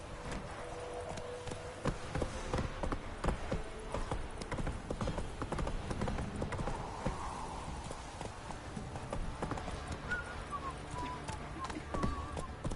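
Roach the horse gallops through The Witcher 3: Wild Hunt with a steady, close clip-clop of hooves and a brief whinny, overlaid with game music and ambience and occasional voices.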